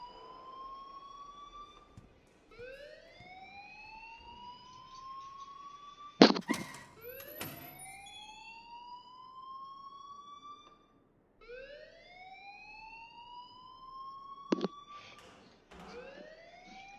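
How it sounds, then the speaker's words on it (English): Alarm ringing in the video game Life Is Strange, a rising, sweeping electronic tone that repeats in long cycles, with a couple of sharp clanks breaking in, fairly loud and steady with no voices. "please turn off that alarm since that's your job."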